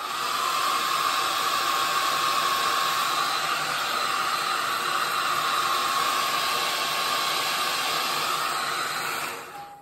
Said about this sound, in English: I'm going to use my hair dryer again.